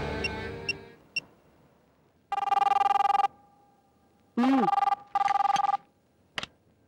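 Telephone dialing with a few short clicks, then three bursts of an electronic ring tone with pauses between them, fairly clear and isolated.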